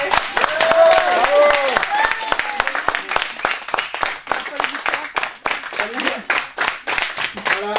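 A film crew claps to mark the last shot of a school short film, a run of sharp, fairly close hand claps with voices talking and calling out over them.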